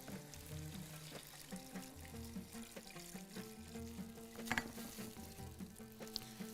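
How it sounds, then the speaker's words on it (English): Water poured into a pot of frying vegetables for Bahraini thereed, a soft continuous sizzle and bubbling with a few light splashes and knocks, quiet and close with no talking. "Now I'm going to add 4 cups of water."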